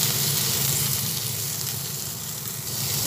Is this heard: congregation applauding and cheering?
no